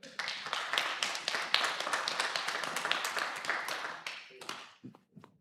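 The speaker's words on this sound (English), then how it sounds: "We need to cut down on the cheering and jeering, folks." Audience members at a city council meeting clap in a steady, fairly distant burst of applause that carries on for about four seconds before tapering off into a few scattered claps and faint voices.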